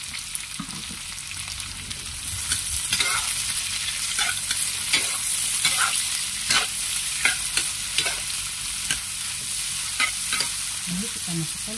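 Sausage and long beans stir-frying in a hot wok, with a steady loud sizzle and repeated scraping stirs of the spatula throughout, no voices.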